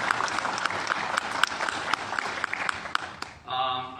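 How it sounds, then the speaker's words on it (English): Audience applause following a talk on the forensic study of D.B. Cooper money bands, a steady wash of many hands clapping with a few sharper individual claps, fading out into quieter room noise near the end. "let's give him another round of applause"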